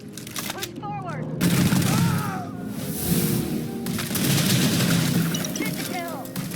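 Bursts of gunfire and booms in the video game Starfield fill a chaotic firefight, with continuous loud volleys, whooshing effects and game voices talking over the shooting.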